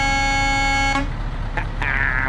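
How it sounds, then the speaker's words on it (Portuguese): A loud, sustained truck air horn in Euro Truck Simulator 2 blares for about a second, then cuts off, leaving engine rumble and a brief higher tone. "E a buzina, querem ouvir?"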